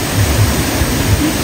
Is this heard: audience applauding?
no